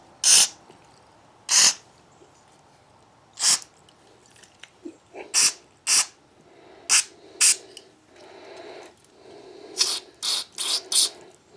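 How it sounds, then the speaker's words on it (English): Short bursts of aerosol spray hiss into the holes of a rusted gas tank on a chipper shredder, about a dozen, irregularly spaced, some in quick clusters, close and fairly loud with no talking. "I'm pretty much just spraying all the holes"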